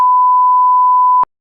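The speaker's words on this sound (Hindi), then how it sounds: "अब इस पे बीप लगा, बीप लगा दियो, इस पे भी बीप लगा दियो।" A censor beep: a single loud, pure, steady electronic tone that holds for about a second and a quarter, then cuts off abruptly, leaving silence.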